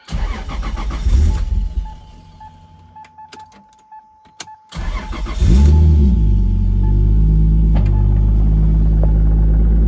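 A 1995 Toyota Supra is started: a whirring starter and faint clicks come first, then the engine catches with a loud roar and settles into a strong, steady, close rumble.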